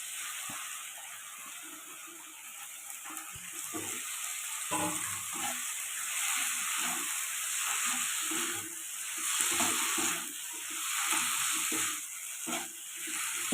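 Boiled mushrooms and tomatoes are stir-fried in a pan, giving a soft, steady sizzle with intermittent scraping and stirring sounds, fairly quiet and close, with no talking.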